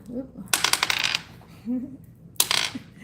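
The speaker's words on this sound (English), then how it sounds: "Rolling the Astro Dice." Astrology dice rolled onto a surface: two bursts of rapid, bright clattering and rattling, the first lasting about half a second and the second shorter, close and clear, with brief murmured speech between them.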